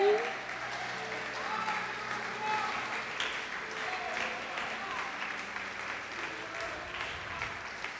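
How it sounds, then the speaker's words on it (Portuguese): A church congregation applauds Jesus during an evangelical sermon, steady broad clapping filling the room for several seconds with a faint background voice or tone mixed in. "Você pode aplaudir o Senhor Jesus por isto?"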